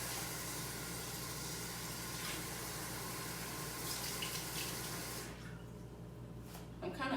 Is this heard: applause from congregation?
no